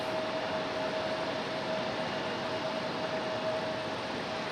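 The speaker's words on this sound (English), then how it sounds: "We should have some good noises coming from that A220 here in just a moment" Airbus A220 jet departing from the runway at Raleigh-Durham airport, a faint, distant broadband roar holding steady throughout with no voices.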